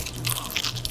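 Close-up crunchy chewing of spicy fried chicken at a mukbang, a short burst of crisp bites and mastication with no talking.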